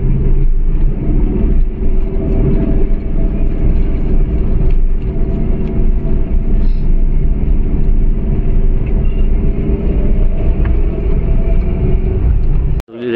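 A train at a Konkan Railway station on a foggy, cold winter morning gives a steady, loud low rumble that runs unbroken for the whole stretch before cutting off abruptly at the end.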